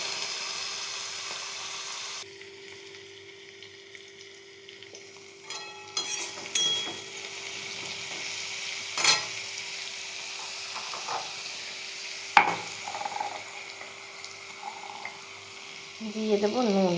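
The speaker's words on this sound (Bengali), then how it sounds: "বেগুনটা আমি ভাজবো।" Eggplant frying in a pan with green chilies, a soft hiss punctuated by scraping stirs and occasional clinks, close and moderately quiet, with brief voice sounds in the background.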